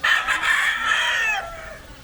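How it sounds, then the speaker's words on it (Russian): A rooster crowing at a Manila street market, one loud close crow held for over a second before trailing off into a fainter tail, with no talk. "я думаю, что этих петухов здесь продают"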